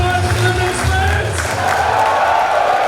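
A large crowd murmurs and cheers in a hall before a stand-up comedy show, a steady loud wash of voices with some clapping and raised calls throughout.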